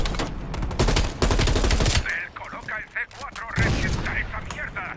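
RPK light machine gun in Call of Duty: Cold War, firing in dense bursts of rapid automatic shots with game effects, a pause, then another burst; a voice speaks over the gameplay.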